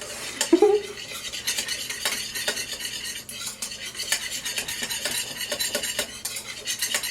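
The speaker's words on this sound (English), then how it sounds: "we're just gonna whisk" Hand whisking in a bowl, a steady run of fast scraping, clinking strokes with brief pauses, close and fairly loud, with no talk over it.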